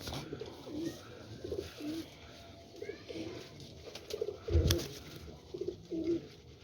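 Kamagar pigeons coo repeatedly in soft, rhythmic bursts, close by, with a brief louder thump partway through and no talking.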